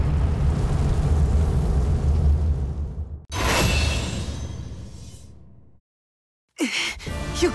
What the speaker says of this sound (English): Oh no! There's a fire!